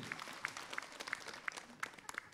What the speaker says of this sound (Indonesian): Tepuk tangan dong buat Habib Muhammad, langsung aja dijawab.